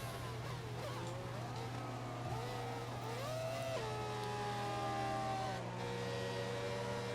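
Racing car engine in the F1 2014 video game pulling into the pits, a steady drone with shifting whining pitch that drops as it slows, under a constant low hum throughout.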